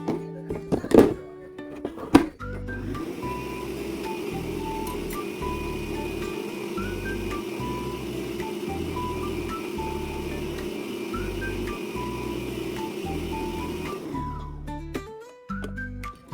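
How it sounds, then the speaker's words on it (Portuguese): Electric stand mixer beating cake batter with flour, a steady whirring motor hum with a regular pulsing rhythm, preceded and followed by a few clattering knocks. "dar uma batidinha aqui na batedeira"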